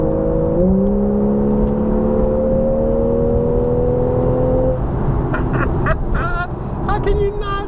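Engine of a 2015 Porsche 911 GTS, naturally aspirated, held in gear by its PDK gearbox, droning steadily at close range through the cabin before the pitch shifts and voices break in near the end.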